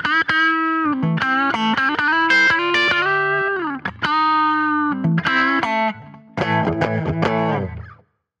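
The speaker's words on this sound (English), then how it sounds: "That sounds like a cocked wah a little bit." Gibson Les Paul Standard with Jimmy Page wiring, both humbuckers in series and in phase with tone knobs up, plays a run of overdriven, effects-laden notes and chords with a nasal, cocked-wah-like honk before ending in silence.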